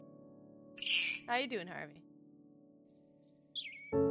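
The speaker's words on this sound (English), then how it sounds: "A bird flew away." A bird takes flight in the video game The White Door, with bright chirping calls at about one second and a higher tweeting flurry near the end, heard alongside a man's speech.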